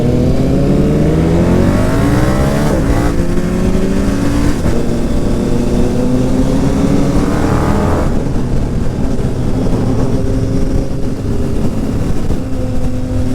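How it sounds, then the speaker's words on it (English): A Triumph Speed Triple 1290 motorcycle runs loud and close, its engine note rising and falling through several revs and gear changes with a continuous rough roar underneath, and no talking over it. "Love the sound of those old speed triples."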